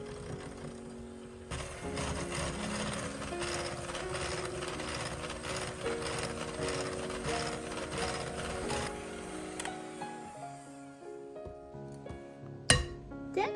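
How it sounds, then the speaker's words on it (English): Electric mixer whirring steadily through a vegetable oil batter for blueberry bread, a continuous motor drone lasting about ten seconds before it stops, followed by a few light knocks near the end. "We should thoroughly blend these ingredients until the mixture is creamy and smooth."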